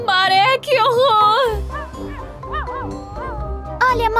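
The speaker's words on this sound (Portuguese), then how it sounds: "Olha, Morpho, o cachorrinho saltitante está em perigo e alguém precisa salvá-la." A cartoon puppy in danger yelps and whimpers in a string of high, wavering cries over a low rumble, with a cartoon voice talking nearby.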